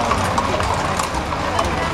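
Many horses' hooves clip-clop on pavement during a riders' parade in Santo Antônio do Amparo, Minas Gerais, a busy overlapping patter of steps close by, with people talking over it.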